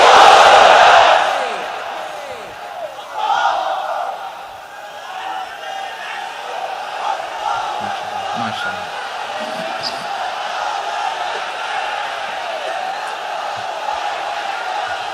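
A large gathering of worshippers at a Bengali religious sermon shouts the takbir together, a loud massed cry at the start followed by a second swell and then a sustained crowd murmur.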